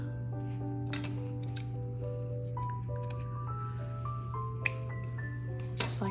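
Scissors snip straight across the ends of a handmade shabby chic tassel, a few quiet clicks over a steady hum and faint ringing tones.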